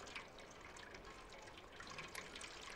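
Faint water trickles and drips quietly and continuously in the video game Stray, a soft, low-level flow with scattered droplet ticks and no talking.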